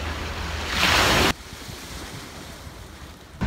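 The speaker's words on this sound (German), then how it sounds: "Es liegt direkt am Meer." Sea waves on the coast at Portopalo, Sicily, a broad rushing wash swelling to a loud surge then dropping abruptly to a softer, continuous rumble, with wind buffeting the microphone.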